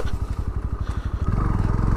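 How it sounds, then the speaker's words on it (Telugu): A Bajaj Pulsar NS160 motorcycle (2021) braking hard, its engine pulsing in a rapid close-up thrum that shifts to a lower, smoother drone partway through. "అండ్ ఇప్పుడు ఒకసారి హార్డ్ బ్రేక్స్ చూద్దాం."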